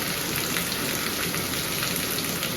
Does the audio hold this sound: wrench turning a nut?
no